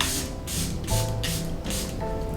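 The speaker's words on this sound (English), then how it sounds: "So I'm gonna just spray a little bit of face mist" Face mist spray bottle giving five quick, close pumped spritzes in a steady rhythm, each a sharp airy hiss, over a faint tonal background.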